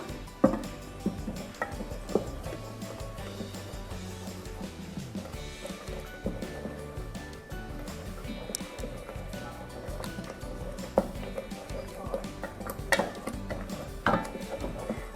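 Red curry paste and coconut milk stir-fried for Thai red curry with roast duck, a spoon scraping and stirring steadily in the pan with a low bubbling sizzle, close and fairly quiet throughout.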